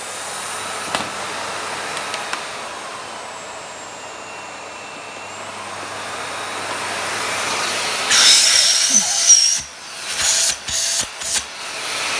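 A Miele S5281 2200-watt vacuum cleaner hums steadily during a suction test, then its loud rushing hiss surges and fluctuates near the end as the airflow changes.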